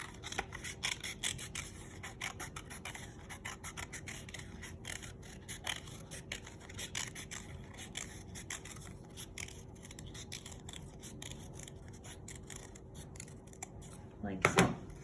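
Scissors cutting freehand around a paper circle to make a spiral for a paper flower: steady, close, rhythmic snipping that continues throughout, with a louder rustle of paper at the end.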